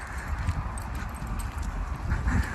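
Steady clip-clop of horse hooves close by, a continuous rhythmic clatter of steps with low rumbling underneath.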